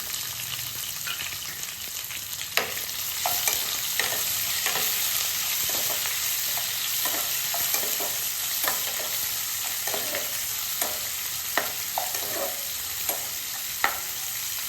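Chopped onion and green chilli fry in a pan with a loud, constant sizzle. Light scrapes and taps from a spatula stirring the pan sound at irregular intervals throughout.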